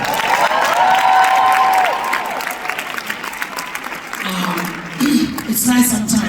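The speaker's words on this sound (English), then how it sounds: "please give a round of applause to her" An audience at a stand-up comedy show applauds and cheers for a comedian, a loud, dense wash of clapping with whoops and voices mixed in that dips briefly before swelling again.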